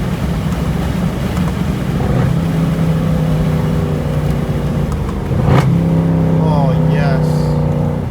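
A Mercedes C63 AMG engine roars loud and close from inside the car at night, revving with a rising pitch. A quick shift breaks the sweep about two-thirds through, and people talk over the engine noise.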